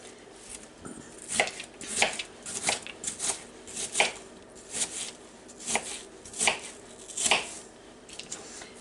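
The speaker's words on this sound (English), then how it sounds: "this is about a medium-sized onion. So I'm just going to cut the whole thing up and put it in there" A knife chops a medium-sized onion on a cutting board with steady, evenly spaced thuds, about one or two per second, close and clear with no talking.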